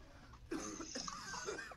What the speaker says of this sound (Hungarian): Igen, zihálás, köhögés.